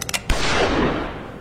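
Video game gunshot from a six-shot gun, a single sharp blast after a few quick clicks, followed by a short rolling echo that fades within a second.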